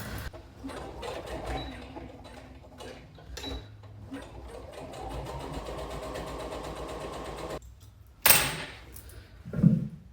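A home sewing machine stitching a pair of pyjamas closed, its close, steady mechanical whir running for several seconds, then stopping and followed by a couple of sharp clunks.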